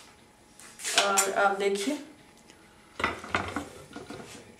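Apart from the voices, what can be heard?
opening the lid of a pot after steam cooking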